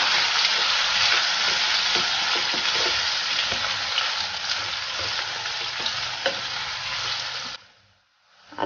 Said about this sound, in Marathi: हे आपण छान फ्राय करून घेऊया